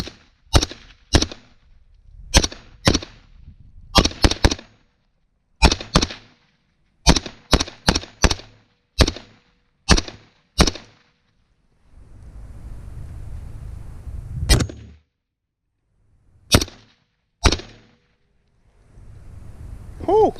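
Hunting-rifle shots fired at hogs crack out as sharp, loud reports in irregular bursts, some spaced quickly and others after pauses, with gusts of wind rumble in the quieter stretches between them.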